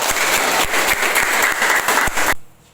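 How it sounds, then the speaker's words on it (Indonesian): A high school classroom bursts into loud, close applause for a student, many hands clapping densely for about two seconds before it stops abruptly. "Kita kasih aplaus buat Hasdin."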